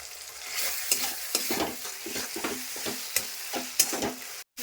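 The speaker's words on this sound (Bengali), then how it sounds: "কষানো হয়ে আসছে, এই যে তেল ছাড়ছে দেখো।" Tomato and Kashmiri chilli powder masala frying in oil while being stirred, with a steady close sizzle broken by repeated scraping strokes of the spoon against the pan, and no talking.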